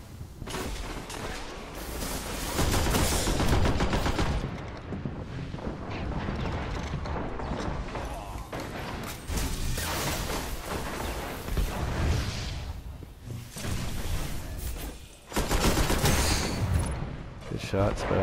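Sustained gunfire and explosions during a Destiny firefight, dense overlapping shots and booms that stay loud throughout with short dips, while players talk over the action.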